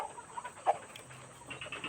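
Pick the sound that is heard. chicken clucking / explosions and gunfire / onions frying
chicken clucking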